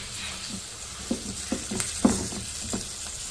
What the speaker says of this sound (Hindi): 2 मिनट इसको भूनते हैं मसाले के साथ।